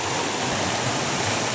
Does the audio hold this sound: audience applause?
no